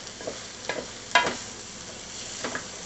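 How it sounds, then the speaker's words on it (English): Onion soup mix stirred into ground turkey frying in a pan, a soft background sizzle broken by a few scraping stir strokes, one louder than the rest, with no talking. "I just put that packet of onion soup mix on there"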